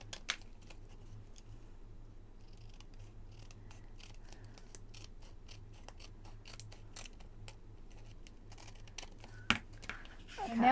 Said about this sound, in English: I carefully come around and I trim the acetate to fit the pocket